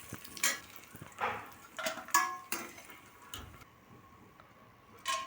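Raisins fry in a pot for sago and moong dal payasam, with faint sizzling beneath scattered clinks and scrapes of a utensil against the pan, fairly quiet and intermittent.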